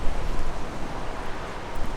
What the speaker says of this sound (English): You can probably hear the wind gusting around me at the moment.